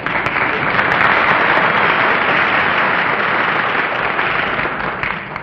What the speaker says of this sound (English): They're applauding your skill in driving.